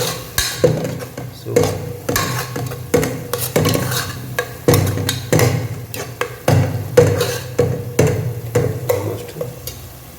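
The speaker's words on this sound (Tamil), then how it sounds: "நான் குழம்போட மிக்ஸ் பண்ணுறேன்." A spoon stirs village-style fish curry (meen kulambu) in a metal pan, scraping and clanking in a repeated rhythm about once a second over a low bubbling simmer, with a brief spoken remark.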